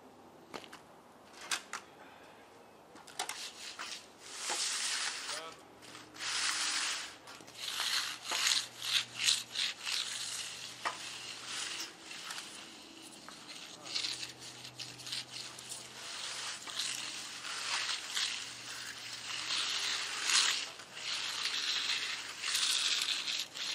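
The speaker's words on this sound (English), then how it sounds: "when I'm mag floating, I'm tipping the mag up slightly to the right when I go right" A magnesium float sweeps across a freshly poured small concrete floor, making repeated rough scraping and rasping strokes in uneven bursts, fairly close, with no talking.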